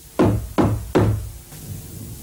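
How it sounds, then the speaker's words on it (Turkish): Three firm knocks on a door in quick, even succession, close and loud, followed by quiet room tone. "Kapı çalıyor hatun."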